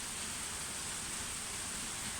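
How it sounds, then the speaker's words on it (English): Heavy monsoon rain in Nihonmatsu, a dense, even hiss of downpour filling the whole stretch without breaks, steady and moderately loud, no voices. "it's raining pretty hard right now"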